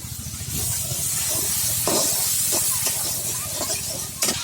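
Turmeric, chili and a splash of water simmer and sizzle in a pan, a steady close hiss with faint clinks of stirring over it.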